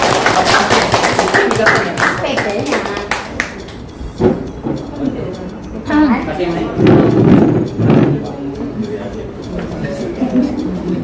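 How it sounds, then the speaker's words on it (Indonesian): A crowd claps in a dense patter of hands at a school math teachers' meeting, loudest at the start, while a voice speaks over the applause. "silakan tepuk tangan yang mulia"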